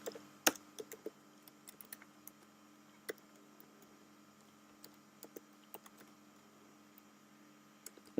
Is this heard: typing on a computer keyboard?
yes